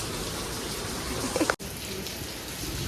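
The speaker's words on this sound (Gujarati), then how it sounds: "લાઈટ છે બહુ જ વરસાદ છે" Heavy first rain of the season falls steadily in a dense, even hiss, close by, with a brief abrupt dropout midway through.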